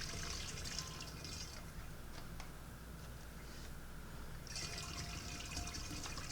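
Water trickles and runs steadily while lemon mead is mixed, washing honey off the top, a soft continuous flow with brighter splashy bursts at the start and end, no talking.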